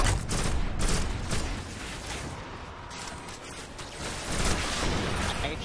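Rapid bursts of gunfire in a shooter video game, a dense, loud, continuous barrage with mechanical clatter, aimed at an enemy's already broken leg.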